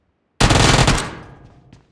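An UZI fires in a video game: one loud, rapid automatic burst starts abruptly after a short silence, holds for about half a second, then trails off into echo, with no talk.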